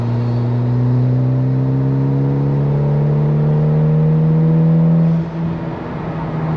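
Mitsubishi Evo X engine held at a prolonged half-boost rev, a loud steady droning tone that climbs slowly for several seconds before dropping off, no talk.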